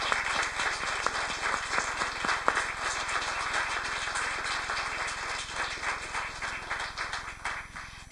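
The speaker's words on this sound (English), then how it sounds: "please join me in giving a really, really warm round of applause to Secretary Pompeo" Warm audience applause for Secretary Pompeo at a religious freedom address, a dense, steady wash of many hands clapping that continues evenly for the full stretch, fairly close and loud with no talk over it.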